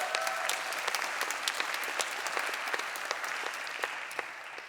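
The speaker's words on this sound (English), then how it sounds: "Let's also give them a round of applause." Audience applause at a youth grantmaking event, a steady patter of many hands clapping at moderate level, with individual sharp claps standing out throughout.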